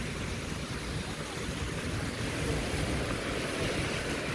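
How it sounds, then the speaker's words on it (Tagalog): Broadband watery rush of choppy street flood water during an Abu Dhabi storm, with steady wave noise and some wind buffeting, continuous and fairly loud throughout, no voices. "Maalon-alon pa yung water"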